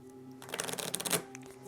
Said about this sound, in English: And then everything else gets shuffled up.